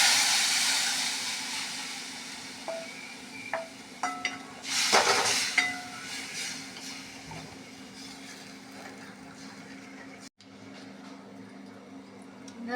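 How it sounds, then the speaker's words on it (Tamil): Tamarind water hits a pan of sautéed small onions and garlic for rasam, setting off a loud hissing sizzle that settles into a steadier, fading bubbling fry, with a few brief clinks over it. "இந்த கரைச்சி வச்ச புளி பொடி எல்லாம் புளியில் கரைச்சி வச்சுருக்கோம்ல அதை ஊற்ற போகிறேன்."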